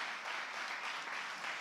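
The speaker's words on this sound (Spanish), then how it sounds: "¿Cuánto le pueden dar un aplauso al Señor?" A church congregation applauds during a sermon, with a steady, dense wash of clapping from many hands at a moderate distance, continuous throughout.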